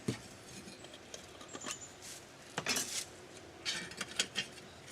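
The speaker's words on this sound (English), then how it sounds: "Pop this alcohol stove out." A metal alcohol stove and bent wire parts are set into a grill-top canteen stove, giving a few light, close metallic clinks and taps separated by short quiet gaps.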